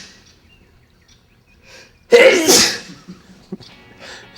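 A single sharp, loud sneeze bursts out after a quiet stretch, followed by short breathy sounds and small movements close by.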